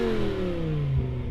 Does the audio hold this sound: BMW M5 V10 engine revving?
yes